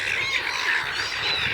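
Seagulls squawk loudly and continuously, overlapping harsh cries close by that fill the whole moment without any talk.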